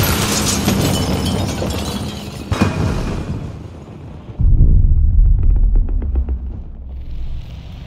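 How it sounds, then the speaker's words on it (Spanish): A grenade explodes in the Battlefield 2042 video game on the Detonante map. A sudden loud, booming blast follows a stretch of battle noise and rumbles on for a couple of seconds before fading. "¡Granada va! ¡Retroceded!"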